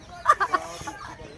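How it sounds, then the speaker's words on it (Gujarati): A domestic rooster clucks three times in quick succession at close range, then quieter rustling and faint background noise follow. "ઘર કુકડો છે"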